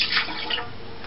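A cup of water poured into a pot for a chocolate recipe, a short burst of splashing liquid heard up close and alone.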